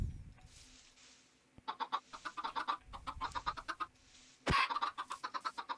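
Blocky Minecraft chickens cluck in rapid, choppy bursts, a steady run of short clucks that pauses briefly before a sharp hit and resumes, fairly close and clear.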